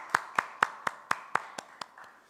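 Rhythmic clapping in a Korean Sunday church service, about nine evenly spaced, fairly soft claps in unison, slowing and fading toward the end.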